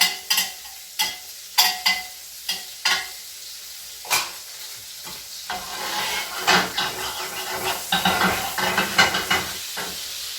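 A T-bone steak fries in butter in a pan, a steady sizzle under repeated sharp scraping and tapping strokes of a utensil, irregular at first and busier later, close and fairly loud with no talking.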